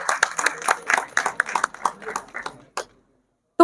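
An audience at an honoring ceremony for journalists and social workers in Indore claps for about three seconds, close and crisp with many individual hand strikes, then the clapping thins out and stops.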